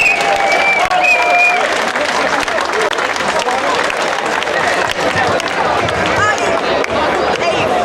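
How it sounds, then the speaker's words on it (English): A crowd at a gathering in a migrant hotel in Barbican, London, breaks into steady, loud applause lasting throughout, with scattered voices and a bit of cheering mixed into the clapping. "give yourselves a round of applause"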